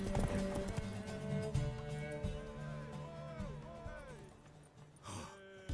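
Horse hooves clop rhythmically in a gallop during a horse race in The Witcher 3: Wild Hunt, with a neigh and breathy vocal sounds layered over the hoofbeats at moderate volume.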